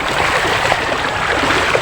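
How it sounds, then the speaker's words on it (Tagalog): A flooded river rushing after days of heavy rain, a loud, dense and continuous roar of fast-moving water close by, with no voices. "tatawid na naman tayo ng ilog oh malakas na naman yung baha"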